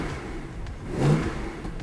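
A Mercedes-Benz SLS AMG fitted with a full aftermarket exhaust gives a short, loud rev that swells near the middle of the clip, a deep close rumble rising over steady low engine idle.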